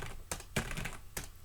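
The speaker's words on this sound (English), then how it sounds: "And I start typing in stuff." A computer keyboard clicks in a handful of sparse, separate keystrokes, close and fairly quiet, while someone types at a command line.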